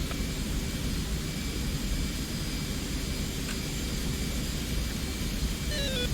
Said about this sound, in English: I've managed to start one engine, I hope.